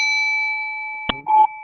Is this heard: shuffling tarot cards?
no